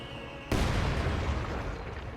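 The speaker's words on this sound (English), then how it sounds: "There's the anti-tank strafe on the T-34." A sudden heavy blast as an anti-tank strafe hits a T-34 tank in a strategy game, a sharp onset followed by a sustained roaring rumble of explosions and fire, loud and without talk.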